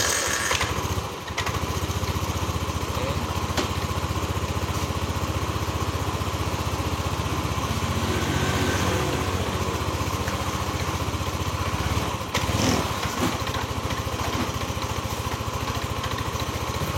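An older Yamaha Nmax scooter engine with fault code 61 and its idle speed control at 100% runs steadily and loudly close by for the whole stretch, with a faint dip near the start and no talking.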